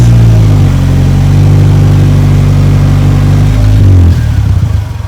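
A Polaris Slingshot's engine revs loudly on the throttle with a steady, strong drone that shifts pitch near the end as the revs drop, heard close and alone without talk.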